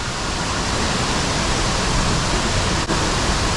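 Rushing white water churning below the Chickamauga Dam lock, a loud, steady broadband roar heard up close from a kayak, continuous with no breaks.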